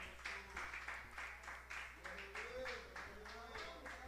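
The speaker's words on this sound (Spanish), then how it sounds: "dele un fuerte aplauso al Padre" A church congregation at a Spanish-language sermon applauds in a steady run of claps that lasts the whole stretch, with a voice going on underneath.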